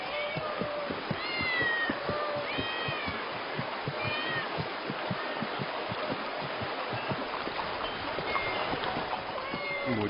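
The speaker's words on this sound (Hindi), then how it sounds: "ये इतनी सारी बिल्लियां यहाँ क्या कर रही हैं?" A crowd of cats in a city meows constantly, many overlapping cries rising and falling at once, with a steady rhythmic patter beneath them. The sound is dense and continuous, with no clear gaps.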